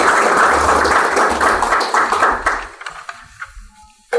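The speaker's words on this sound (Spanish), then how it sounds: "Un aplauso, por favor." Applause from an audience at a corporate company event, loud and full at first, then thinning out into scattered claps before fading to near silence.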